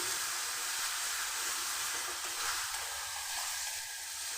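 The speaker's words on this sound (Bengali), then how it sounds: "সব মশলাগুলো আমি খুব ভালো করে ভেজে নিচ্ছি লাল করে কষে নিচ্ছি" Spices, including turmeric, fry in a pan for a vegetarian chana dal with peanuts, giving a steady, close, continuous sizzle throughout with no voices.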